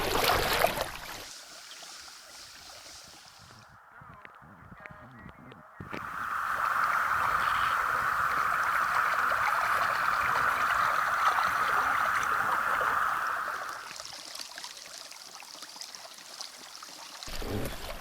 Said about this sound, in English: Water's a little choppy at the moment.